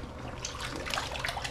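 Water pours and trickles into a hunting bag held under a tap while saddle hunting gear is cleaned, a steady close splashing flow that rises slightly as the bag fills, with no talking.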